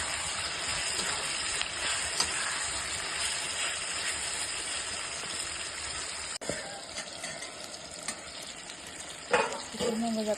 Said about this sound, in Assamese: ভালদৰে ভাজিছোঁ।